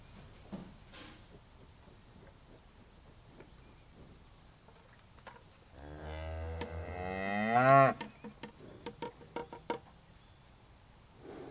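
Cattle on a farm where hogs are also raised: one long, loud moo rises near the middle, with scattered knocks and clatter around it and quiet ambience before.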